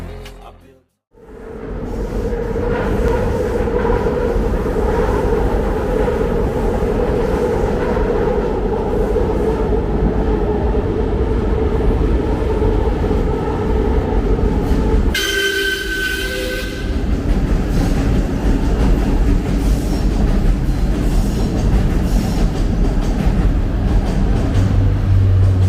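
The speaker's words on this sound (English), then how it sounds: "Train." A train passes steadily and loudly for about twenty-five seconds in the Kensington Avenue area, with a continuous rumbling roar and a brief burst of brighter screeching midway before the rumble carries on.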